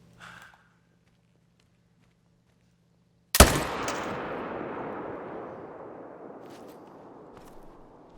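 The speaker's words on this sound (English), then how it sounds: "Let's shoot the bear." A single loud rifle shot at a bear in the hunting game theHunter: Call of the Wild, set in the Medved-Taiga reserve, cracking out of near silence with a long rolling echo that fades over several seconds.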